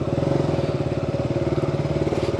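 A motorcycle engine runs at a steady close idle with a fast, even pulsing thump, setting off on a long road ride.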